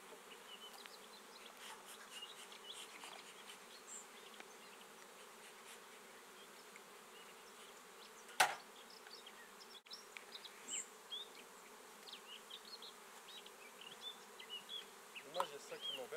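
Honeybees hum steadily at an open hive during a brood frame inspection, a soft continuous buzz with occasional louder passes near the microphone and a sharp handling knock midway.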